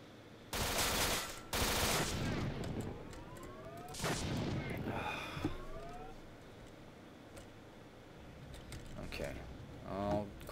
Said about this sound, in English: Quit shooting at me.